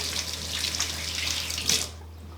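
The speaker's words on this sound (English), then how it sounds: "I'm going to clean my hands" Tap water runs steadily into a kitchen sink as hands are washed under it during cooking prep, a continuous close splashing hiss that fades out near the end.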